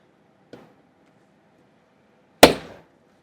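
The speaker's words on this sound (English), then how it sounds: "You can hear it actually popping the glue as it goes down the line." Glue joints crack apart as a screwdriver pries open a toy shark's body: a faint snap followed about two seconds later by a louder, sharp pop with a brief rattling tail, close and otherwise quiet.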